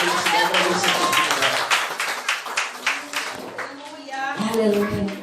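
Congregation in a church clapping in scattered bursts while a preacher keeps speaking over the applause.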